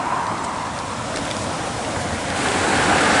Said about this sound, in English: I can hear the flow of the river right up here